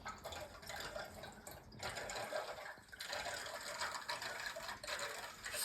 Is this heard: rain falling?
no